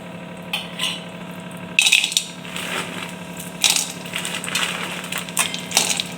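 Broken dry dates being roasted in ghee in a wok, heard as close, irregular rattling and clinking of hard pieces against metal with bursts of stirring and a light background sizzle, no talking.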